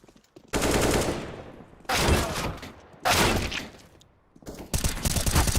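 Rapid automatic gunfire in a Counter-Strike match between Team Spirit and Winstrike at IEM New York, loud bursts of sustained shooting broken by brief pauses, dense and close.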